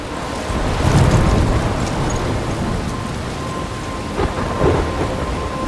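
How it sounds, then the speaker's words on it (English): Thunderstorm with steady heavy rain in the video game Life is Strange, a continuous wash of rainfall with low rumbling thunder swelling near the start and again toward the end, no voices. "I'm trapped in a storm?"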